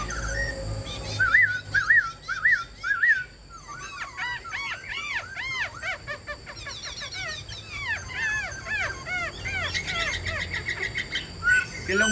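A caged silver-eared laughingthrush sings a lively string of clear, rising and falling whistled phrases that come close together, fairly near and loud over a faint low background hum.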